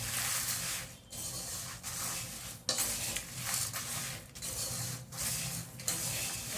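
Spices for bisibela bath powder stirred together in a pan, a steady scraping rustle in repeated strokes with brief pauses between them, close and fairly loud with no voices.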